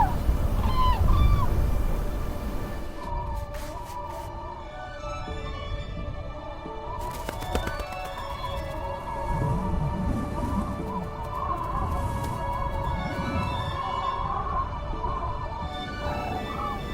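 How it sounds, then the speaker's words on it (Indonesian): Black-necked cranes call out in the open on a high plateau, repeated honking and trumpeting cries, some near and some more distant, with wind and rustling underneath. "Ketika kicau burung bangau berleher hitam terdengar"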